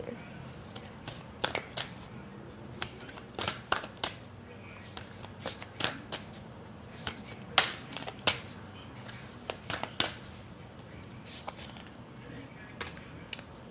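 A Black Moon Astrology tarot deck being shuffled close up, giving repeated crisp riffles and card slaps in irregular bursts over a quiet background.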